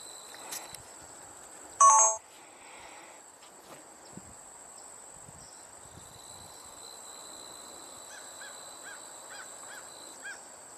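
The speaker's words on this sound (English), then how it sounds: "American crow." An American crow gives a short, sharp burst of caws in the distance outdoors, with a faint chorus of insects trilling in the background throughout.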